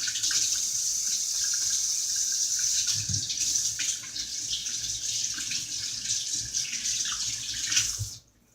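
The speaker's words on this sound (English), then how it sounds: "Now I'm going to rinse my hand off," Tap water runs steadily into a kitchen sink as hands are rinsed during meatloaf preparation, a continuous close hiss and splash that varies slightly for about eight seconds before the flow cuts off abruptly, with no talking.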